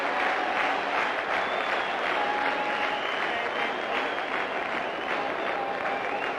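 Crowd at the Gaddafi Stadium cheering and applauding after a six in a 1996 Cricket World Cup match between Holland and UAE: a steady, dense wash of clapping and roar that stays loud throughout, with no break.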